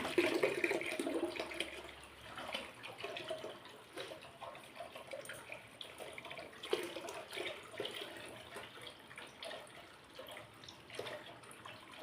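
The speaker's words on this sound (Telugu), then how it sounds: "నొక్కగానే చక్కగా వచ్చేస్తుంది నీళ్ళు." Tap water runs steadily into a basin while fish are being washed, a faint continuous splashing hiss with no talking.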